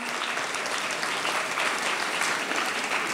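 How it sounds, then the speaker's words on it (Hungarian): A school hall crowd gives loud, sustained applause at a Hungarian primary school's end-of-year ceremony, a steady thick wash of clapping with no talk over it. "Végül, igen, egy tapsot megköszönünk."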